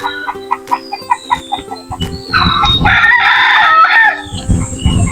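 Gamecock roosters in a chicken coop cluck in short bursts, then one crows a long, loud cock-a-doodle-doo close by, followed by more clucking.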